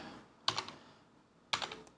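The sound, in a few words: computer keyboard typing through effects pedal harmony mode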